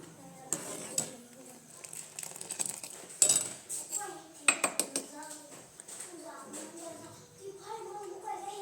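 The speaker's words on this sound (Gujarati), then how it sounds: "આમાં કાજુ બદામ ને પિસ્તાની કતરણ છે ને તે ઉમેરી દઈશું મિક્સ કરી લઈશું" Spoon stirring chopped cashews, almonds and pistachios into a dish, giving irregular clinks and scrapes against the metal pot, moderately close, with talk in the background.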